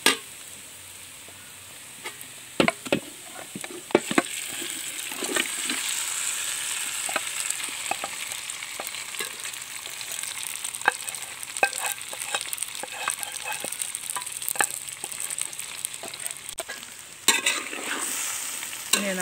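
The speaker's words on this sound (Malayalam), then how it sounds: "നമുക്ക് നല്ലപോലെ ഇളക്കി കൊടുക്കാം." Marinated beef sizzles loudly in a pan with garlic and oil while being stirred for Kerala-style beef ularthiyathu. The steady frying hiss runs throughout, with repeated scraping and clinking of the spoon against the pan.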